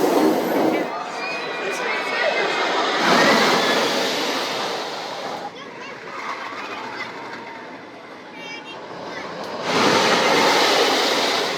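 A roller coaster train with a GCI car roars and rumbles along its track at Silverwood, loud and continuous, with surging swells of noise and faint crowd sounds mixed in.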